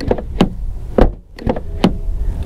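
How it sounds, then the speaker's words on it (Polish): Several solid thumps of the rear door of a 2025 MG HS 1.5 automatic shutting, some quick and muffled, with a short pause between the last few closings. "Dźwięk zamykania tylnych drzwi"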